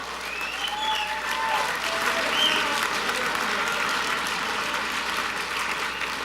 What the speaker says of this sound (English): Come on, Michael, a round of applause